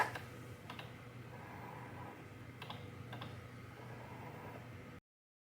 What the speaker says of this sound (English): My machine is reading the registration marks.